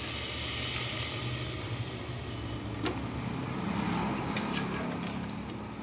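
Water poured into a hot pan with green chilies sets off a loud, continuous sizzling hiss that stays steady and close, with a faint tap of a utensil and no talk.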